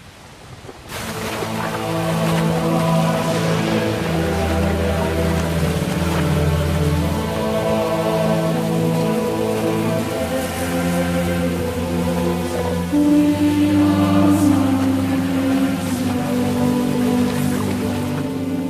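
Steady, loud torrential rain on a winter road toward Jerusalem, heard continuously under sustained tonal music for the whole stretch.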